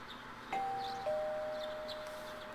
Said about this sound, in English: You hear the doorbell ringing.